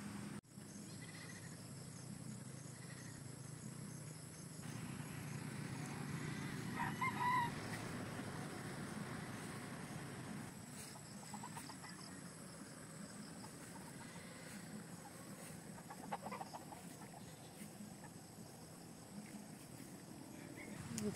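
Chickens cluck softly in the distance while feeding in the evening, amid a low outdoor hum, with insects buzzing faintly and an occasional rooster call.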